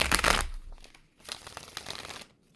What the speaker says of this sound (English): let me just give it one good shuffle